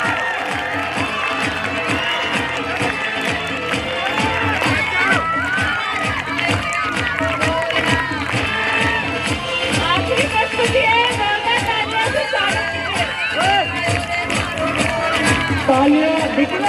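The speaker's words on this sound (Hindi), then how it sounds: "तालियां निरंतर बजती रहना चाहिए। लड़कियां बहुत तेज बजा रही हैं हमारी।" An audience at a school annual function claps continuously in a dense wash of applause, mixed with crowd cheering, shouts and babbling voices throughout.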